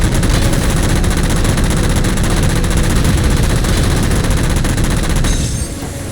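Sustained, dense automatic gunfire in Halo 4 as jammers are shot down, loud and close, rattling continuously for about five seconds before cutting off into quieter ambience.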